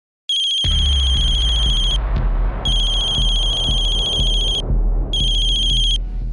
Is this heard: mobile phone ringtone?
yes